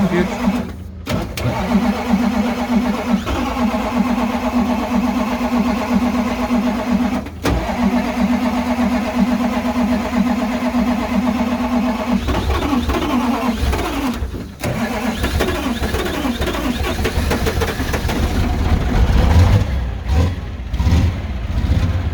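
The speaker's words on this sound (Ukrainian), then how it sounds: "ось так заводиться камазло." A KAMAZ truck engine cold-starts at minus 20 degrees, cranking, catching and settling into a loud rough idle with surges of revving, while people talk close by.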